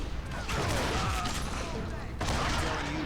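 Rifle fire from the Western shooter Call of Juarez: Gunslinger, with a dense, loud barrage of shots filling the whole stretch and a brief break before the fire resumes, as game voices run underneath.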